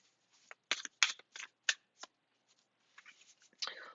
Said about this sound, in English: I'm using the Crystal Spirit cards.